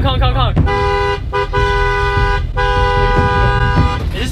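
A loud tour bus horn honks in several long blasts with short breaks, close by, over a rumbling engine and traffic noise.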